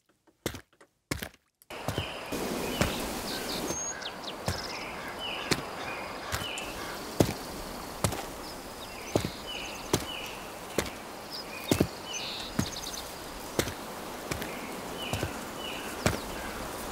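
Lower-pitched footstep effects meant to suggest larger shoes on a dry surface, made with a sound pack: a steady series of distinct, close steps, roughly one every second, with faint background texture and no speech.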